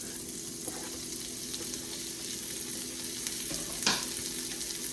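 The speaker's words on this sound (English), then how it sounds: "I'm going to add the shallots to it. So we're going to cook the shallots for a little bit." Shallots sizzle steadily in a pan of rendered beef tenderloin fat, a close, even frying hiss with occasional stirring scrapes and one brief sharper clatter near the end.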